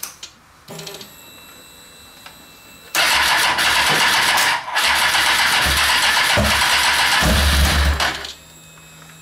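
A Kawasaki ZX-10 motorcycle engine cranks briefly, then fires up and runs loudly and steadily close by, with a short dip mid-run before continuing until it cuts off near the end.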